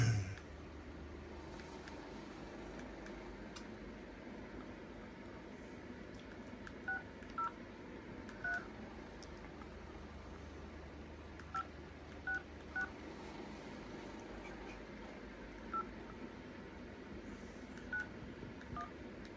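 Telephone keypad tones as a number is dialed, a series of short beeps in small irregular clusters over a constant low background hum, fairly faint.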